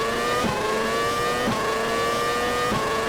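Race car engine in the Race 07 video game, A1 Grand Prix round at the German Grand Prix, revving steadily with rising harmonic whine as the car accelerates out of a corner, loud and continuous with no talk.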